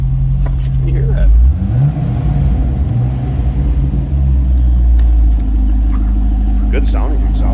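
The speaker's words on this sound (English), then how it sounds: "Good sounding exhaust" Exhaust of a 2006 Chevrolet Corvette coupe revving loud and close, deep low rumble swelling in a couple of throttle blips over a steady idle, with a voice speaking over it.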